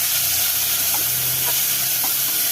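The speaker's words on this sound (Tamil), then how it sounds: "இப்போ இதை நல்லா வதக்கிக்கலாம்." Shallots, dried chillies and vallarai greens sizzle and fry steadily in a hot pan, a loud, close, continuous hiss with a few soft stirring scrapes and no talking.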